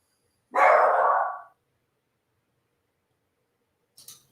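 A single loud, close dog bark lasting about a second, then silence and a brief faint sound near the end.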